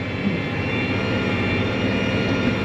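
Tractor engine labouring as it pulls through heavier soil in a field during the first tillage of the year, a steady, loud, dense roar that continues without a break and with no voices.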